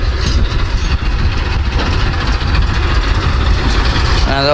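A tractor engine runs at a farm, a loud, close, steady low rumbling drone with rattling, continuing throughout without pause.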